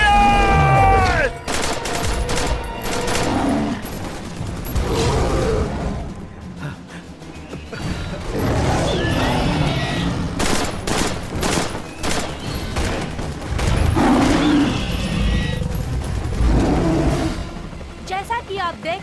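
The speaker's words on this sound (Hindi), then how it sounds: "फायर! फायर! गोलियां चलाओ!" Chaotic action-movie battle with bursts of gunfire and loud impacts, mixed with roaring creatures and dramatic dense noise throughout, loud and near, with shouting voices in places.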